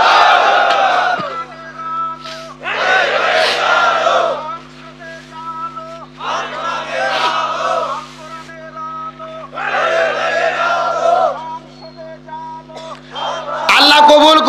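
A crowd at an outdoor religious sermon chants the takbir in loud unison, four roaring bursts separated by short pauses, with a steady hum running beneath.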